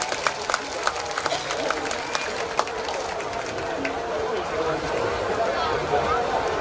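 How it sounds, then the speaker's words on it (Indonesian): Audience applause and clapping rise as a steady, dense wash at a nighttime closing ceremony of the Pekan Raya Kendal fair, with sharp individual claps near the start and an announcer's voice carrying over the crowd. "Tepuk tangan dong untuk Bank Jateng"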